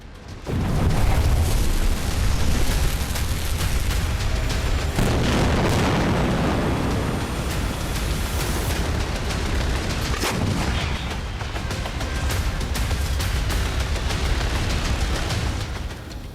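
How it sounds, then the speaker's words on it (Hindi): Continuous heavy booming and rumbling blasts from airstrikes with crackling gunfire layered throughout, loud and dense, rolling on without pause, during the Israel-Hamas war. "जहां फिर से धमाके की गूंज है, जहां फिर से हवाई हमले हो रहे हैं।"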